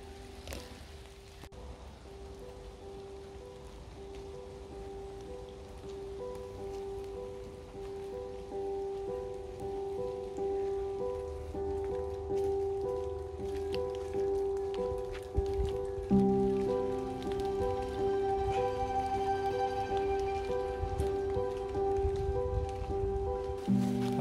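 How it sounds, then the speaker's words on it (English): Rain patters on water along a woodland footpath, a steady dense hiss that grows fuller and heavier partway through, alongside a sustained tonal hum. "As you may be able to hear from the rain hitting the water, it's getting a bit heavier, the rain."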